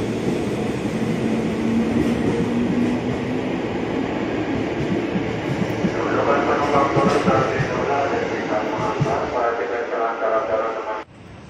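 A JR 205 commuter train bound for Bogor rumbles and hisses steadily nearby as it pulls into Tebet station, with a brief tonal squeal partway through before the noise cuts off abruptly.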